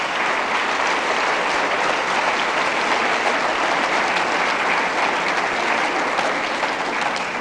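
A church congregation applauds steadily and loudly throughout, a dense sustained clapping with no pause and no voices rising above it.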